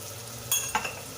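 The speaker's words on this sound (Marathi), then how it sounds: "हळद आणि हे आपण परतून घ्यायचे" Spice masala with turmeric, mint leaves, chili and salt is stirred in a pan for a jackfruit biryani, giving a short scrape and clink of a spoon over a soft sizzle.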